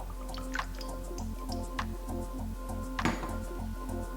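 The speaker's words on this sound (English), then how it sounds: "Adding in a 1/2 cup of vegetable oil." Vegetable oil poured into a mixing bowl that already holds two eggs for chocolate cupcake batter, a quiet series of soft drips and wet squishes heard close, over a faint steady hum.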